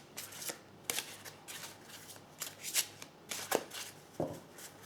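Deck of cards handled and shuffled for a reading, a series of quick crisp riffles and slaps at irregular intervals, close and soft against a quiet room, with no talking.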